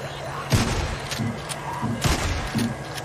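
Shotgun blasts in the video game Days Gone land as a few heavy, spaced booms with short pauses between shots, punchy and close over a low game background.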